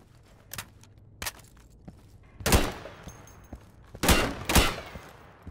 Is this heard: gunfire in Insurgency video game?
yes